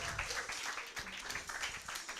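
An audience at an agricultural career fair opening claps, a dense, steady patter of many hands at moderate distance, with some indistinct voices mixed in.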